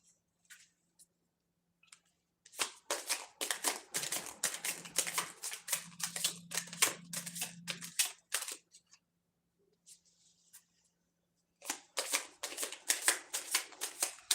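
An oracle card deck is shuffled in repeated bursts of rapid riffling clicks, close and fairly loud, with a quiet pause partway through before the shuffling resumes; no one speaks.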